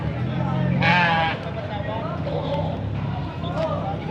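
A goat or sheep at a livestock auction gives a loud, close bleat, with more bleats further off while people talk over the murmur of a crowded sale.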